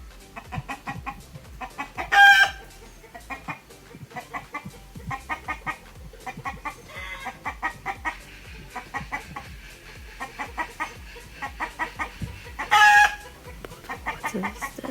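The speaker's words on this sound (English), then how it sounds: "But these chickens been calling and fighting." Chickens fighting cluck continuously nearby, with a loud squawk twice and distant crowing in the background.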